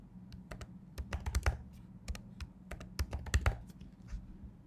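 A computer keyboard clatters as a password is entered, with quick irregular bursts of close, crisp keystrokes separated by short pauses, alone in a quiet room.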